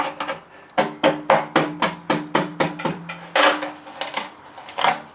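A cheap chisel scraping old coating off metal, a run of sharp, evenly spaced knocks and scrapes about every quarter second, close and fairly loud, followed by a few longer rasping strokes.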